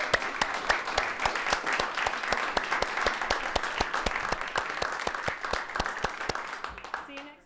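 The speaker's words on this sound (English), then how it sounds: "how about another round of applause for our participants?" An audience at the Alaska State Poetry Out Loud finals applauds the competition participants, a sustained, dense round of clapping from a sizable crowd that fades out at the end.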